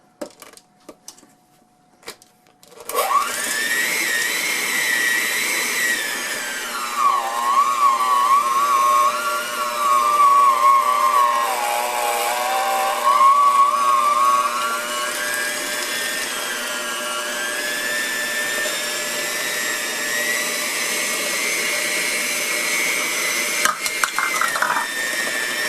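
An electric mixer whirs steadily through cupcake batter as milk is poured in. It starts after a few seconds of clicks, then runs loud and close with a droning whine that dips and rises as the beaters move through the batter.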